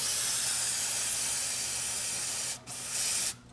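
Aerosol brake cleaner sprayed onto the differential of a Chrysler 300C during a gear oil change makes a steady, close hiss that breaks off twice near the end in short pauses.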